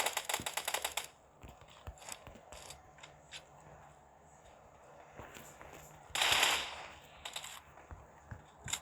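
Bursts of rapid automatic gunfire in the mobile battle royale game PUBG Mobile, loud rattling volleys at the start and again later, with scattered single shots and quieter pauses between, no talking.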